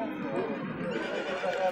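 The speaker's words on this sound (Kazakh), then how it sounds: "жылқылар екен" Horse neighing and whinnying at a horse market in Talas, with hoof clip-clop and a busy crowd murmuring close by throughout.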